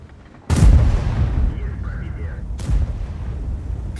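Two heavy tank cannon shots in the World of Tanks video game, each a sudden loud boom with a long rumbling tail, the second a couple of seconds after the first, with faint game sounds between.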